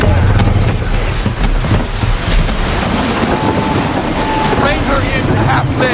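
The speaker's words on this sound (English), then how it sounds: "Wind looks to be shifting. Stay alert, Connor. Gusty winds can be difficult to manage." Gusty wind roaring across a sailing ship at sea in Assassin's Creed 3, with rushing waves and creaking wood under a constant, loud buffeting that never lets up.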